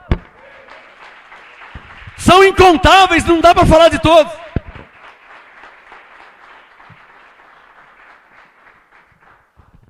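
Church congregation breaking into a loud burst of clapping and cheering voices for about two seconds, fading out as a single speaker talks before and after.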